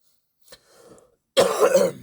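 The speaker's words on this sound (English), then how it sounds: "I had to clear my throat" A short throat clearing sound, starting with a small catch and a soft rumble, then a louder rough burst lasting about half a second. Close and no talking.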